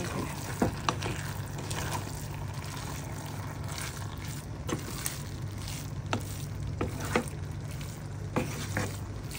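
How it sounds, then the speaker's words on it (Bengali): Food frying in a pan and being stirred: a continuous sizzle with repeated sharp scrapes and clicks of the spoon against the pan at irregular intervals, close and steady, with no talking. "একটু মিক্স করতেছি ভালো করে"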